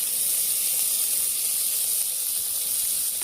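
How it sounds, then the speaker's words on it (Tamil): Crushed garlic cloves fry in hot oil for sambar, alongside dried red chillies, green chillies and small onions. A steady, close sizzling hiss continues without a break and no one speaks. "பூண்டு நல்லா வதக்கி"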